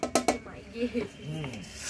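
Metal utensils and a pot lid clink and scrape as they are set down in a home kitchen, a few sharp knocks followed by softer rubbing, with faint voices in the background.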